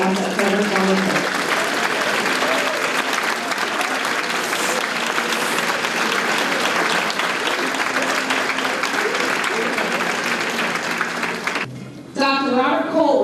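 Sustained applause from a large banquet audience at a homecoming alumni event, honoring a man's 90th birthday, broad and loud for about eleven seconds before breaking off, with a voice speaking over the tail end.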